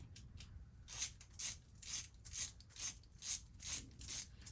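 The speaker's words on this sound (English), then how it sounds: "Everybody likes to hear the sound of a ratchet." Hand ratchet wrench working bolts on a Harley-Davidson Street Glide, giving about eight rhythmic bursts of rapid clicking, close and fairly quiet, with no talk.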